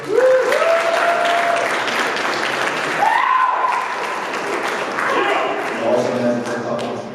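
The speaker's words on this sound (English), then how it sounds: "round of applause for Burkart" Crowd at a stand-up comedy show applauding to welcome comedian Will Burkart, with loud, close clapping throughout and whoops and calls from the audience rising over it.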